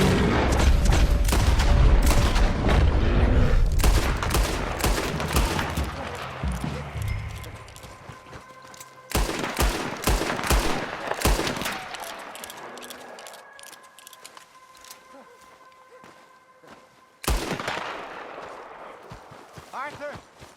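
Gunfight in Red Dead Redemption 2: dense bursts of rapid gunshots and booming blasts come in several loud volleys with quieter gaps between them, mixed with clattering horse hooves, while voices shout over the action.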